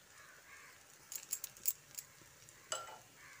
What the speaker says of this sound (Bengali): ঘিটা দিয়ে মিশিয়ে নিচ্ছি